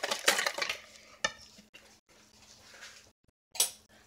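Cauliflower is stirred into a spice mixture in a pot, with a utensil scraping and clinking against the metal in uneven close bursts, pausing briefly between strokes.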